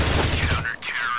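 Gunfire in the video game CS:GO, a short rapid burst of shots at close range that breaks off before a sweeping electronic tone, heard alone.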